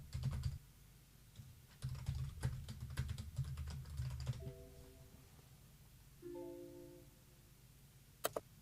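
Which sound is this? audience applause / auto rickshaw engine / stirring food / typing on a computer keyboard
typing on a computer keyboard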